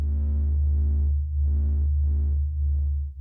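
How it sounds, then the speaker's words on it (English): The sun's pressure oscillations, sped up into audible sound, form a deep steady throbbing hum with swelling, pulsing tonal bursts rising and falling over it. "This is the sound of the sun singing."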